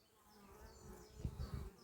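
Honeybees returning to the hive carrying yellow and white pollen buzz steadily at close range, with a few louder passes near the end and no voices.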